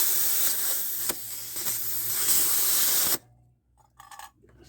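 Compressed air hisses loudly and steadily from an air compressor hose into a car tire for about three seconds, then cuts off, followed by brief quieter fiddling noises.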